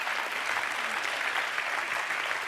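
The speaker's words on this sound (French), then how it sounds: "Oui, ça s'applaudit" Audience applause at a regional final of a thesis-in-180-seconds contest, a loud, even, sustained roar of many hands clapping throughout, with no talking over it.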